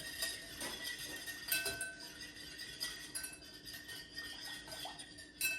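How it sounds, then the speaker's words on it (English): A fork stirs marinade in a small container with quick, repeated light clinks and taps against its sides, faint and close, with no talking. "I'm just gonna use a fork because it's gonna be a little harder to whisk because the container's small"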